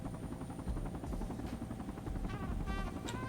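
A transport helicopter in the military game Project Reality drones steadily with a loud, continuous rotor and turbine roar and a rhythmic blade chop, close up and with no voices.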